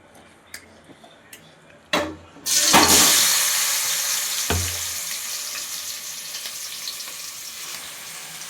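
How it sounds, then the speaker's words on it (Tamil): Chicken pieces dropped into hot oil in a cooking pan burst into a loud, steady sizzle after a few clatters of pan and utensil, the frying hiss gradually easing but continuing to the end. "பாத்திரத்தில் எண்ணெய் ஊற்றிருக்கு. பாத்திரத்துக்கு சிக்கனை போடலாம்."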